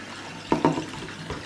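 Hot tap water splashing into the tank of a Vax Floormate hard floor cleaner, a brief, fairly quiet burst of pouring with a couple of sharp splashes.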